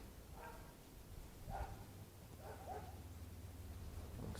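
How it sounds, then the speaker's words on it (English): A dog barking outdoors at a home, several faint, distant barks spaced irregularly over a low steady engine rumble. "That's my dog right there barking."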